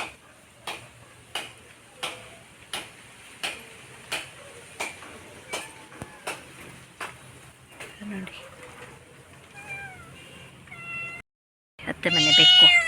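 A mother cat with two kittens meows, the calls rising toward the end and loudest at the close, after a stretch of steady, evenly spaced clicking.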